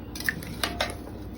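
Potatoes go into a pot of nearly tender rump roast, heard as a few quick light clinks and knocks of metal and cookware in a short burst, close and fairly quiet, with no talking.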